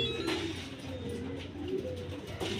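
Blue bar racing pigeons at a loft give soft, low coos, faint and fairly close, with a few repeated calls over quiet background noise.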